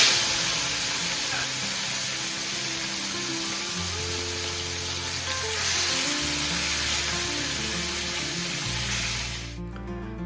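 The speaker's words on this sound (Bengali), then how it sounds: "এবার মাছগুলোকে ঝটপট করে ভেজে নিব।" Fish fries in mustard oil with a loud, constant sizzle and crackle heard close, over a low steady hum, ending in a sudden drop.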